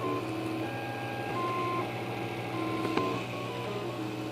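Prusa i3 3D printer printing a part hums steadily at close range, its stepper motors whining in changing tones and short tonal runs, with no talk.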